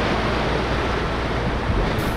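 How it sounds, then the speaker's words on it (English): Tiny waves break gently on rocks at the shore, a steady, fairly loud broadband wash with no distinct individual breakers and no voices. "Got a bit of background noise here now with the tiny little waves breaking on the rocks."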